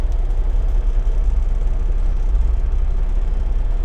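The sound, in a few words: truck engine started and idling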